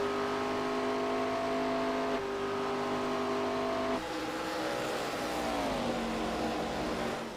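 ARCA stock car engines from a racing video game at Texas drone loudly and steadily, a pack of cars holding revs with shifting pitch as one changes tone and another slides downward near the end.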